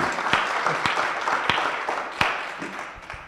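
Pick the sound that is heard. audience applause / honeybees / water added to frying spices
audience applause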